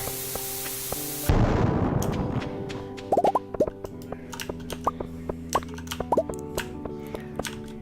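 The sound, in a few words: bombs exploding in the mines in Stardew Valley video game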